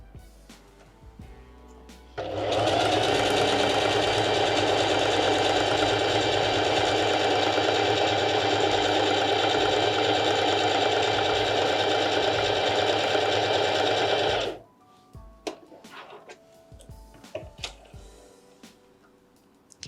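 A Singer Heavy Duty 4432 sewing machine stitches in one continuous fast, loud mechanical whir for about twelve seconds, starting and stopping abruptly, with quiet handling clicks before and after.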